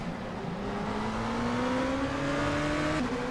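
Turbocharged four-cylinder engine of a Mazda RT24-P DPi prototype racing at Sebring in the rFactor 2 sim, droning steadily with a rising pitch as it accelerates, then briefly dipping at a gear change near the end, with no speech.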